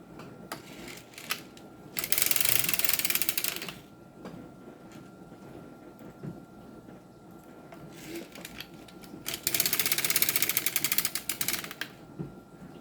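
Circular sock knitting machine being cranked, two loud bursts of rapid clattering mechanical ticking separated by quieter, sparse clicks and handling noises.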